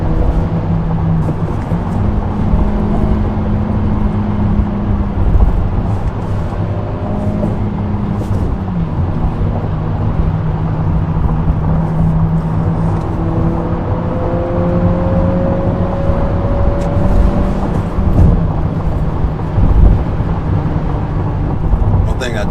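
An Acura Integra A-Spec engine revs up through the gears toward redline, rising pitch sweeps repeating over a loud, steady road rumble with a voice talking over it.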